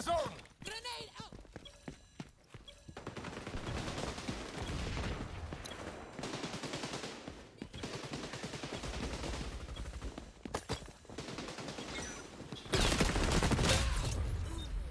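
Gunfire rattles in the video game XDefiant, with dense bursts of automatic shots, sharp single cracks and a loud blast near the end, while players talk over the action.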